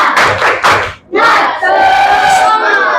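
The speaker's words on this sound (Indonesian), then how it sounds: "Coba tepuk semangat." A class of schoolchildren does a rhythmic spirit clap chant, with loud group claps in quick bursts followed by a sustained shouted chant in unison, close and filling the room.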